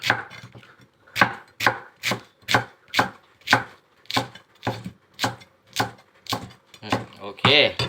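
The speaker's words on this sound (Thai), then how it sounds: "ซอยบางๆแบบนี้นะครับ ซอยได้หลายแบบครับผมแล้วแต่นะครับ" Banana blossom sliced thinly with a knife on a cutting board for Thai fried fish cakes, giving about fourteen crisp, evenly spaced chops, close and fairly loud, with no talking.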